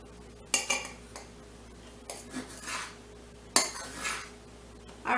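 A knife cuts smoked sausage in half on a board, giving a few sharp knocks and scrapes spread across a few seconds. The sounds are close and moderately loud against a quiet kitchen background, with no talk.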